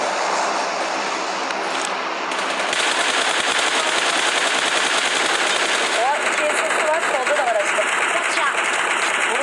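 Video game gunfire, sustained loud rapid automatic bursts over a dense, noisy game soundscape, with people talking underneath.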